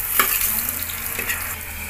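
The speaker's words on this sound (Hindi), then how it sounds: "और अब हम इसको चला लेते हैं, ऐसे भून लेते हैं इसको।" Turmeric tempering fries in a pan while being stirred, a close steady sizzle broken by a couple of sharp scraping clinks of the spoon against the pan, with no voices.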